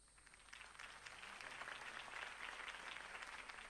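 Crowd applause rises after a mayoral campaign speech in the Batman Telltale video game, a steady wash of many hands clapping at a distance, fairly quiet and continuous throughout with no talking.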